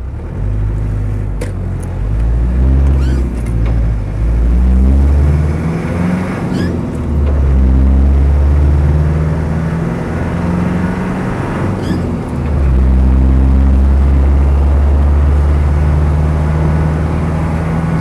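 A non-turbo diesel Land Rover 110 hardtop drives along a main road, its engine a steady loud drone with low gear-change shifts rising and falling, and a couple of brief clunks.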